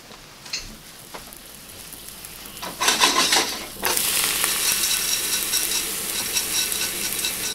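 Cheerios cooking in a pan, with a steady sizzling and frying hiss that swells louder partway through and keeps crackling on without any talk.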